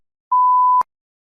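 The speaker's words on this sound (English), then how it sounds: "You may begin to prepare your response after the beep." A single steady electronic prompt beep from a TOEFL practice test plays for about half a second, clean and mid-pitched, ending in a short click over silence.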